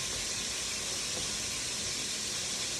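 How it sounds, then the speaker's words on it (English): Sausage sizzles steadily in a hot pan, a dense, even hiss of frying fat running throughout with no voices. "you see it, you hear it frying now"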